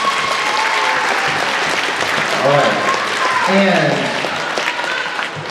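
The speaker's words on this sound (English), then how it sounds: "How about a round of applause for Ms." Audience applause fills a school winter band and orchestra concert, a steady dense clapping that holds throughout while a voice briefly speaks over it.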